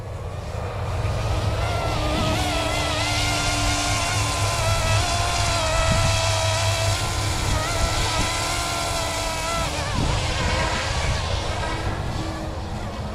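Scale UH-60 Black Hawk RC helicopter flying pirouettes in wind, a continuous buzzing motor and rotor drone that holds steady throughout, fairly loud and near, with someone talking intermittently over it.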